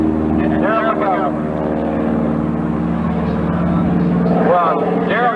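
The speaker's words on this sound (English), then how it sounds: "The best aerobatic act you're going to see anywhere." Aerobatic airplane performing at a 1995 airshow, its engine drone steady and loud throughout with rising and falling pitch sweeps as it passes, under an announcer talking over a public address.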